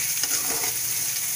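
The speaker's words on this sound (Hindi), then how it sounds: "देखिए प्याज हमारा फ्राई हो रहा है" Onions frying in a pan for a ridge gourd curry, a steady close hiss of sizzling oil with soft scraping as they are stirred, no voices.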